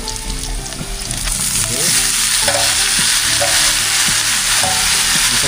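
Offal sautéing in hot oil, a loud close sizzle with rhythmic stirring scrapes of the spatula throughout, and a single brief spoken word.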